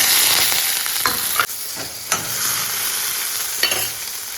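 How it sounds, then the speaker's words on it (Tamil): Mustard seeds, chana dal, curry leaves and small shallots sizzle loudly in hot oil, with steady frying hiss and a few sharp clacks of a spoon stirring the pan, close and alone. "எப்பவும் போல் கடுகு கடலப்பருப்போடு தாளித்து விட்டுருந்தோம் கருவேப்பிலை போட்டு சின்ன வெங்காயம்"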